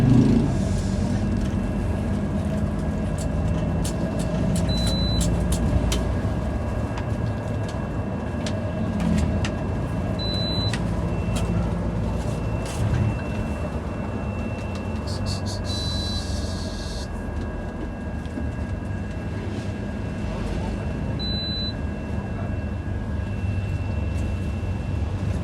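Steady engine drone and road rumble inside a Mercedes tronton bus in motion on the Mataram to Bima route, a continuous low hum with faint rattles and occasional short beeps, no talk.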